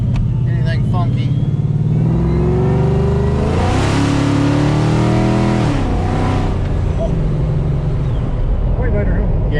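A Coyote-swapped, Whipple-supercharged Fox-body Mustang engine on E85 rises through the revs as it accelerates, shifts and pulls again, loud and close from inside the car, with voices talking over it.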